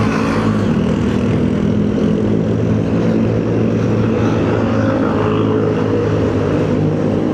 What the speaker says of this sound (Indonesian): Aduh sumpah banyak banget knalpot brong